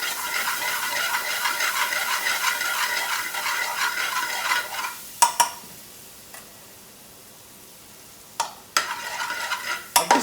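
Fenugreek leaves fry in hot oil for a chicken Madras, a lively crackling sizzle that suddenly quiets midway, then a few sharp metallic clinks and stirring knocks against the pan.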